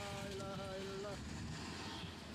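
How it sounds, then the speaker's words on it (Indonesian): Strong wind gusting through Makassar city, a dense rumbling roar heavy in the low end, with a faint whining tone riding on it for the first second, then continuing alone. "Angin kencang terjadi di Kota Makassar dan sekitarnya sejak beberapa hari terakhir."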